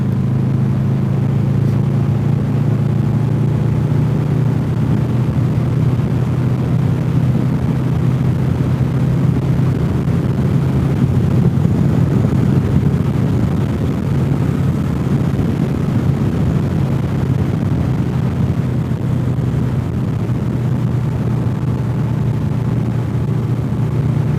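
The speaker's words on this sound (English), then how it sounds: "I am on a Honda Interceptor." A Honda Interceptor motorcycle rides through the Great Smoky Mountains near Cherokee, North Carolina, with a loud, constant engine drone and wind roar that stays steady throughout.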